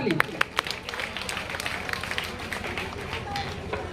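Applause from an audience at a convocation ceremony, as a block chief is called up to be honoured; dense patter of clapping at moderate level with a busy crowd murmur and some talk mixed in.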